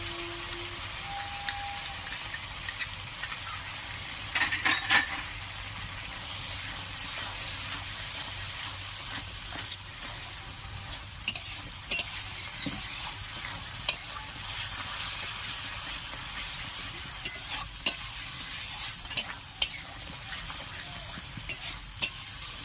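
Spice masala frying with sour yogurt in oil for katla fish kalia, giving a constant close hiss of sizzling with occasional spoon scrapes and taps as it is stirred.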